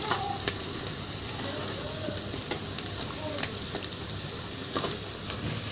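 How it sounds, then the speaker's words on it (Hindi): Whole garam masala frying and roasting in a pan with browned onions, giving a steady close sizzle with scattered small crackles and pops throughout, no talking. "अब हम इसमें डालेंगे 1 चम्मच गरम मसाला साबुत। इसकी भी भुनाई कर लेंगे।"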